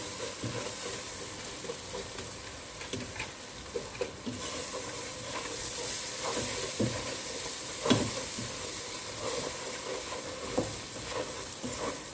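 Cashews roasting in a pan while a kitchen tool stirs them, with a steady soft sizzle and occasional scraping clicks, moderately quiet and without voices.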